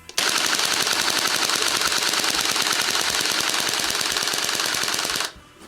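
A metal GBLS DAS limited edition M4A1 airsoft rifle fires BBs in one long, unbroken full-auto burst, a loud, close, rapid mechanical rattle lasting about five seconds before it cuts off.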